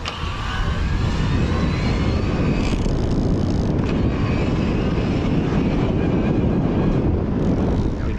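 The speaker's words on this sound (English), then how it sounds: "I'm gonna try to show you that motor noise again" Riese & Müller Roadster Mixte Vario electric bike riding away from traffic near 20 mph, a steady broadband rush of wind and rolling noise with a faint motor whine throughout, no talking.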